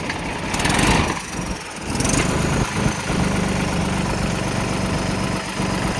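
A Mahindra 295 DI tractor engine idles close by with a steady, unbroken mechanical rumble that lasts the whole clip. No one speaks.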